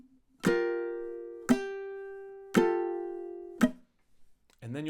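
Four ringing ukulele strikes play measures 1 and 2 of a song at a slow, even tempo, each note sustaining and then cut off, followed by the start of a voice.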